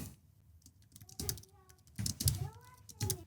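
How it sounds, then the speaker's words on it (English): Rapid clicks of someone typing on a computer keyboard, close and fairly quiet, come in uneven bursts while a voice talks over them. "And I start typing."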